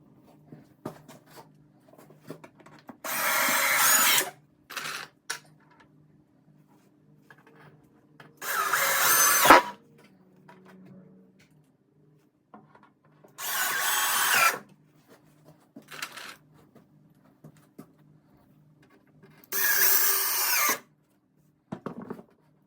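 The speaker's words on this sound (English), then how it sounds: "I'm gonna keep on screwing the boards back on" A power drill drives screws into solid wood boards on a pantry shelf in a 1950s house, in four loud bursts of a second or two each, separated by quieter handling and knocking.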